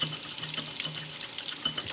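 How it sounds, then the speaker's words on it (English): Hot water runs steadily from a tap onto a glass bottle while the label is scraped off, a continuous broadband hiss of splashing water at moderate level with no talk. "doing it this way with hot water running on it"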